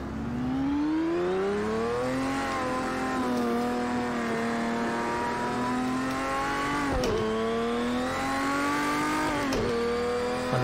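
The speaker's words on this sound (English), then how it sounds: "The noise of the engine when you put your foot down." A Porsche 917K race car engine in Project Cars 2 accelerating in the rain, a loud continuous high-pitched engine whine climbing through the gears with brief dips at shifts, alone without speech.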